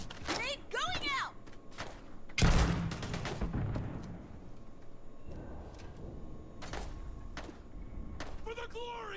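A grenade goes off with a sharp heavy blast in the sci-fi shooter Starfield, one loud boom followed by a rumbling tail, with scattered shots, thuds and a voice speaking around it.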